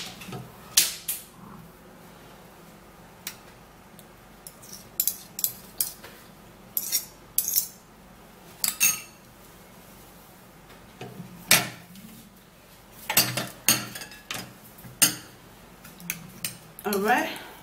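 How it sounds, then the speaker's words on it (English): A spoon clinks and taps irregularly against a small bowl while a homemade honey skin mask mixture is stirred, the sharp metallic ticks scattered across the span with quieter gaps between them. "you're going to give it a little stir also"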